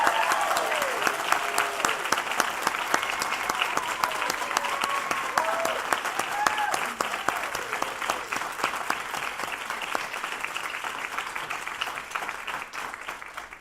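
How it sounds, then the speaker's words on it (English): An audience at a family medicine residency graduation gives a long round of applause for the graduating class, sustained and dense at first, then gradually thinning and fading toward the end. "please join me for another hearty round of applause for our 7th graduating class of the Novant Health Family Medicine Residency"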